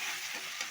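Onion and tomato being stirred in a hot cooking pan, a short burst of steady sizzling and scraping, close and fairly quiet, with no voices.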